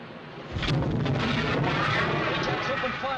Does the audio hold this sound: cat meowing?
no